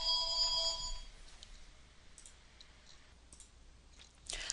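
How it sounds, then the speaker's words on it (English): A telephone rings with a bright electronic trill for about a second at the start, then cuts off, leaving a quiet room with a few faint clicks. "so now where were we when that phone rang?"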